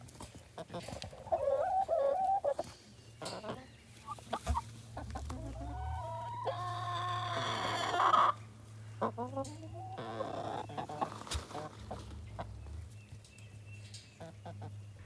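Hens cluck and squawk in bursts close by, a rooster-like call rising in the middle, over a low hum with people speaking at times.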